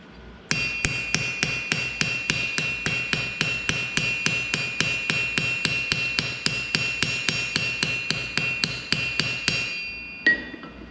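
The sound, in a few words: beat up hammer texturing metal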